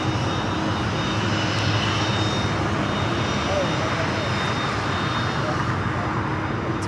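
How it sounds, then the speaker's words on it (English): Thirty-two-year-old Falcon 900 business jet arriving at LAX from Los Cabos, a steady, continuous engine roar and whine held at constant loudness throughout, with faint talk in the background. "So Falcon 900 coming in from Los Cabos"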